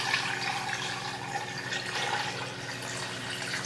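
Tap water runs continuously into a pressure cooker holding oxtails and bay leaves, filling it to the max line, producing a steady, even hiss of flowing liquid throughout.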